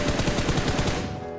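Rapid automatic gunfire from the Metro Escape mode of a shooter video game: a fast, close string of shots for about a second, then it cuts off.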